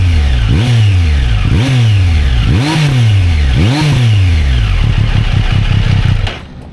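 A Triumph Street Triple 765 RS three-cylinder motorcycle engine revs sharply four times through its exhaust, each blip rising and falling, then settles into a lumpy idle before cutting off.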